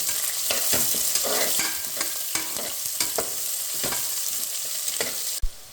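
Onion slices frying in hot oil with cinnamon, cloves, bay leaf, cardamom and cashews, a steady close sizzle broken by stirring clicks and scrapes, ending in a sharp knock; no one speaks.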